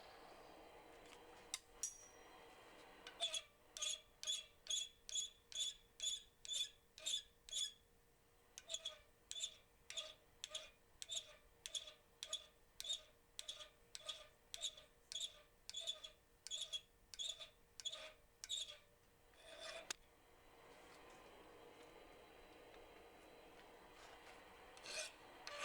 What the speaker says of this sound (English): I'm just going to grab the file just to clean up any burrs that I might have left with this.